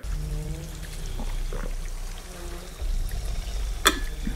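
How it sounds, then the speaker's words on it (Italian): Water is poured and drunk, a brief trickle and gulping amid low background rumble, ending in a sharp clink. "Bevo un attimo l'acqua"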